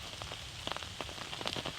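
Heavy rain falls in the Malá Fatra mountain forest during the red deer rut, a dense close patter of drops striking leaves and ground, steady with scattered sharper splashes.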